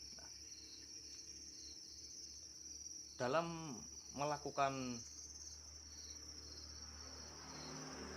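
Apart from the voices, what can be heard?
crickets chirping at a cricket farm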